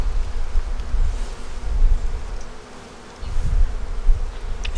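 Honey bees in an open hive buzz in a dense, continuous low drone, close and fairly loud, swelling and easing slightly, with no talking.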